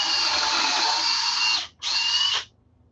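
A power drill drives construction screws in two bursts, a long whirring run and then a short second spin after a brief pause, loud and close, ending in quiet.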